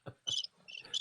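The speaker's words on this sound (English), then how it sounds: "Crickets." Crickets chirping from a sound pad, a few quick bursts of shrill high chirps with low thumps, played alone over about a second.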